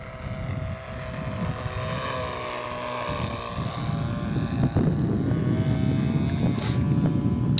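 A model airplane makes a pass, a steady engine drone in open air that swells slightly as it goes by, with no talking.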